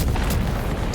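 Weapon fire blast in Death Stranding 2: a dense, continuous low boom that fills the whole moment at steady loudness, with a rumbling body and hiss on top, heard alone without voices.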